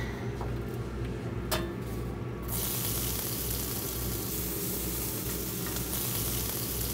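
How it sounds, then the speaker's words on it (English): Onions frying in oil for a grilled cheese, giving a dense, steady, close sizzle that fills the whole stretch with a constant crackling hiss and a brief utensil tick early on. "I'm gonna start by, again, flavoring the oil with the onions."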